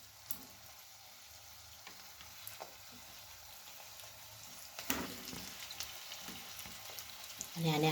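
Sooji pauva idli pieces frying in a pan, a steady soft sizzle with occasional stirring scrapes and a louder burst of crackling near the end.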